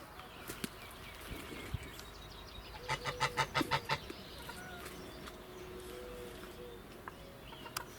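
A hen in a vegetable garden gives a quick run of rhythmic clucks, about seven close, fairly loud pulses in a row, with a few scattered softer clucks before and after against quiet outdoor ambience.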